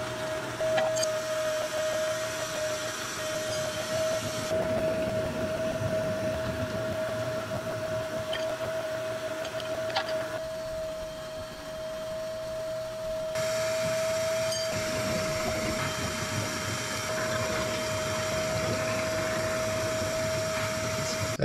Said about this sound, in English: That vacuum trick sure makes that a lot more tolerable.